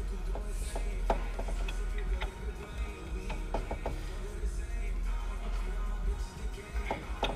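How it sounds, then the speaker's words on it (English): A ratchet turns as a bolt is snugged up on the oil cooler of a Dodge Charger SRT Hellcat during an oil change, giving a series of quiet mechanical clicks and clacks close to the microphone. "You want to just snug this bolt up while holding the oil cooler so it doesn't bend anything."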